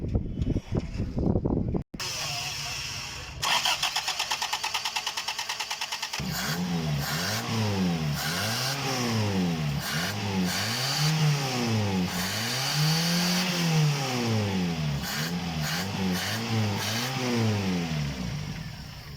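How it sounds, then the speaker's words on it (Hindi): A Toyota Corolla 80 engine cranks and fires after a freshly cleaned carburetor, then settles into a loud, close running note with repeated rising and falling revs, each throttle blip swelling and dropping rhythmically. "अब हम गाड़ी स्टार्ट करते हैं।"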